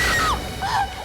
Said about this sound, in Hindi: क्या चीखने की आवाज आई?